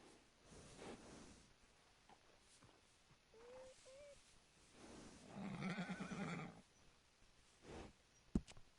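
A horse in the Red Dead Redemption 2 game lets out a faint, brief whinny amid quiet ambient game sound, followed by a louder rustle and a sharp click near the end.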